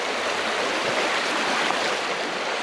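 A Vermont river flows with a steady, full rushing wash of water, close and continuous, with no voices over it.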